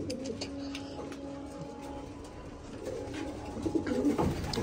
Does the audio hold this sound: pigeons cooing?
yes